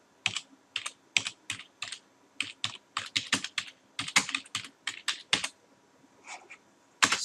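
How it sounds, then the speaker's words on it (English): Fast, uneven keystrokes rattle on a computer keyboard as someone types text into a word processor, with clusters of clicks broken by short pauses and a final sharp key press near the end. "We're going to hit enter and we're going to type in type private or group and then press space bar."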